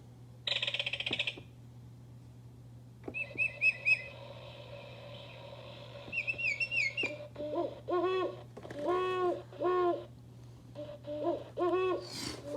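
Bird-call clock from a thrift store playing a recorded owl hoot on the hour, followed by a run of other recorded bird songs and whistles. The calls come in short repeated bursts, close and clear, with a steady low hum underneath and no talking.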